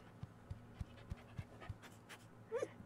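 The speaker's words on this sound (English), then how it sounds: "Puppy!" A puppy pants in quick, regular soft breaths, faint and close, ending with a short whimper-like squeak, with no one talking.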